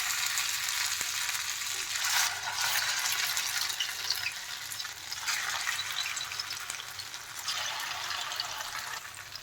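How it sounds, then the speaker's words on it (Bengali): Pumpkin leaf rolls deep frying in a pan of hot oil give a steady, dense sizzle that holds close and loud throughout, with occasional swells of crackle and no voices. "এইগুলো এখন আমি ডিপ ফ্রাই করে ভেজে নেব।"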